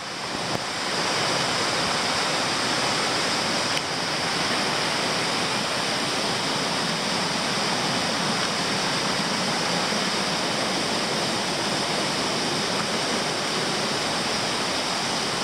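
A forest stream near Nyuto Onsen rushes loud and steady, a constant broadband wash of flowing water with no voices over it.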